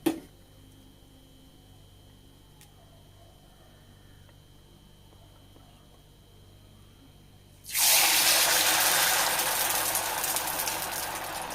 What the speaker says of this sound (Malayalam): ഇതേപോലെ നമുക്ക് ബാക്കിയുള്ളത് മുഴുവനായിട്ടും ഫ്രൈ ചെയ്തെടുക്കാം